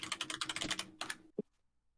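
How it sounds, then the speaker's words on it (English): Rapid typing on a computer keyboard, a quick run of close, crisp keystrokes for about a second, a short pause, a few more taps and one heavier final key press before silence. "The sound of someone typing menacingly."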